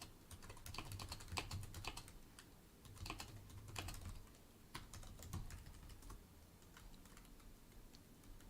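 Quick bursts of clicky keystrokes on a computer keyboard, close and fairly quiet, with short pauses between runs and a faint low hum underneath.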